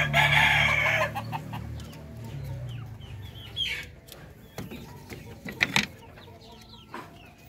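A laying hen clucks close by in a run of sharp, repeated calls, with other chickens calling intermittently around it and a voice briefly heard.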